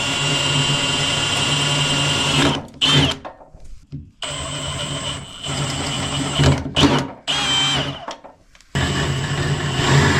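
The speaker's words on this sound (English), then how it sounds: "then we're going to start with a small size drill bit and work our way up in stages" A power drill whines loudly through a Jeep door with a drill bit in several bursts, stopping briefly between runs as the pitch shifts.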